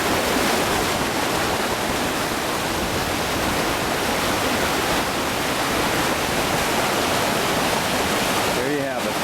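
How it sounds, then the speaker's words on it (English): Waterfall at Moss Cave in Bryce Canyon National Park, a steady loud broadband rush of falling water filling the whole stretch without a break. "There's the waterfall."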